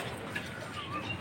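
A silver pigeon coos softly and steadily in a loft, low and fairly near, with no voices over it.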